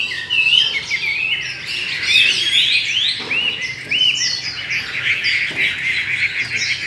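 A hwamei songbird sings a continuous run of bright, varied whistled phrases and trills close by, loud and steady throughout with no talking.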